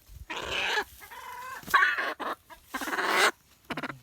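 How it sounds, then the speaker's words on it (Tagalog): Native chicken clucking close by in short bursts, several loud clucks and squawks separated by brief pauses, heard on its own without talk. "Dala kasi ako ng native chicken today dito eh."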